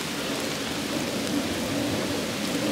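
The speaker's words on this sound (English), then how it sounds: "now it's starting to pouring rain" Heavy rain pouring down in Amsterdam in October, heard from inside a sheltering cafe as a steady, dense hiss with no breaks and no voices.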